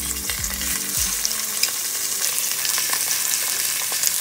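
Spare ribs searing in hot oil with garlic in a pressure cooker, a constant close sizzle with scattered pops and crackles, and a brief low clunk at the start.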